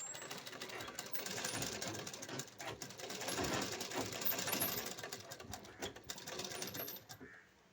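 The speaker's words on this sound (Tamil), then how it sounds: "இந்த ஓரத்தில் தையல் போட்டுறணும்" A sewing machine runs close by, stitching along the edge of a blouse tassel. The mechanical whir is continuous and steady for several seconds, then cuts off at the end.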